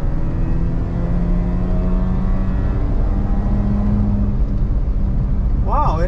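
A Mazda RX-8 rotary engine revs toward redline on a dyno, a loud sustained rising drone filling the whole stretch, with a brief voice near the end.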